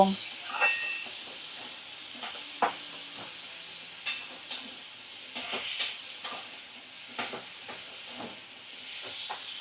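Masala for a Bengali fish curry with drumsticks and rohu is stir-fried in a pan over a medium flame, with a soft continuous sizzle and repeated sharp scrapes and clacks of the spatula at irregular intervals.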